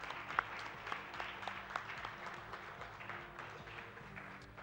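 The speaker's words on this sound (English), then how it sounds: "that's worth the clap" Faint, distant audience clapping at a speedrun marathon event after an Ori and the Blind Forest run, a soft scattered patter of claps.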